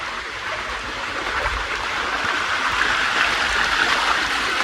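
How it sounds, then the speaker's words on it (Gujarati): During a heavy downpour at Girnar, rainwater streams down the stone steps in a loud, steady rushing wash like a small stream, continuous and close without pause. "તો જોઈ શકો દાદરામાં આવે છે પાણી"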